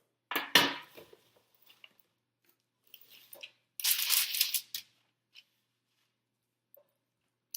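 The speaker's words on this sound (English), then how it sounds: "we are going to press them into that 1/2 tablespoon and put them on a baking sheet" Sticky macaroon mixture is pressed into a half tablespoon and set onto a baking sheet, making scraping, squishing and tapping noises in two short busy bursts with quiet gaps and a few light clicks.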